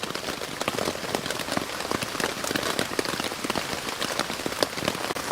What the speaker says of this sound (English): whilst listening to this rain